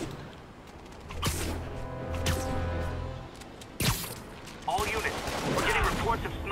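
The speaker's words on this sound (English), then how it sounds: "snipers firing on police" Sniper gunfire in Marvel's Spider-Man, a few sharp, loud shots cracking out amid a ringing game soundscape, with brief whooshes and clatter toward the end.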